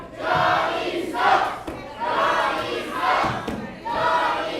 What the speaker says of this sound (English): Now the crowd is starting to chant something else